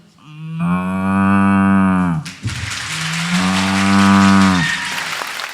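A person imitates a cow mooing with two long, deep, resonant moos, close and loud, with applause-like noise in between and after.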